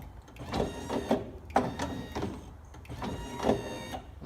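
A BMW E36 power window motor straining with the glass off its slider, whirring in repeated uneven bursts with short pauses between, close and fairly loud.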